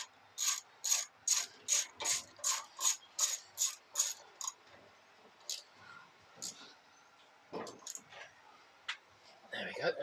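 A ratchet clicks in a quick, steady run of about a dozen sharp strokes while tightening fork bolts on a Yamaha TZR 125 motorcycle, then a few scattered clicks and light handling noises follow, close up.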